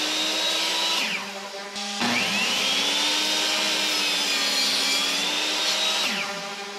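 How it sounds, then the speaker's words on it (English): A table saw whines at high speed as it bites through scrap wood, cutting twice with a brief drop in pitch between passes, loud and close. "we're gonna head over to the table saw now"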